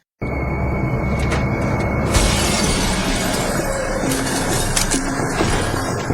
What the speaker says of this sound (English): we see Nick just come crashing out the window